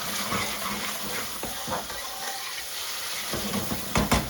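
Sliced onions fry and caramelize in a pan with tomato puree for a lamb chilli masala, a steady loud sizzle with occasional stirring scrapes and bubbling bursts.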